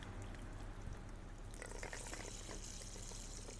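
Water pours steadily into a raised garden container of dried soil, a faint continuous splashing and trickle that grows fuller partway through, with no voices.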